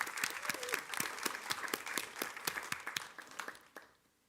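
Applause from a school board meeting audience, a moderate spread of claps with distinct individual hand strikes that thins out and fades near the end.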